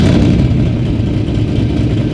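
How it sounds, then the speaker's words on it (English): A deep, loud engine rumble dominates, steady low throb of a 500hp LS1 V8 in a 1969 Chevy Camaro restomod running close by with a rough idle. "let me start this thing up and let you hear the way it sounds"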